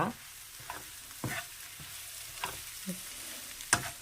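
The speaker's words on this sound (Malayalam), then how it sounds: "ഞാൻ ഇതിലേക്ക് ഇച്ചിരി കറിവേപ്പില ഇടുകയാണ്" Curry leaves drop into hot oil for a banana stem pickle, giving a soft crackling sizzle broken by a few sharp spits and pops, faint and close, with no voices.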